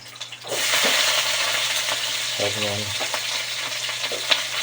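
Meat for pancit bato drops into a hot pan and sizzles loudly, a steady frying hiss that starts abruptly and holds with light stirring scrapes.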